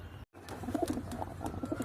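Pakistani high flyer pigeons in a loft give soft, repeated coos over a steady low background hum, with a brief dropout near the start.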